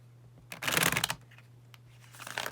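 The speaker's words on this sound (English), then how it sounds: "I'm going to start to shuffle you guys cards" Close, crisp riffling and flicking of tarot cards being shuffled in a quick burst, then softer scattered shuffling over a low steady hum.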